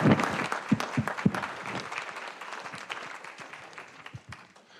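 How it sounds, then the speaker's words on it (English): Audience applause for political candidates at a local forum, a scattered burst of clapping with a few louder close claps early on, gradually thinning and fading toward the end. "Let's give our candidates a round of applause"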